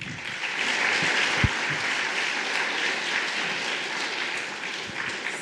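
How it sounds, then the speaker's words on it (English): A conference audience at a legal tech event applauds a speaker, a dense, steady wash of clapping sustained throughout with a few sharp thumps and no talk. "let's give a round of applause for Dr. Posty."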